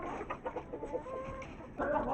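Aseel hens cluck and squawk close by during a scuffle among the flock, a burst of short rhythmic clucks followed by a louder agitated call, fairly quiet overall.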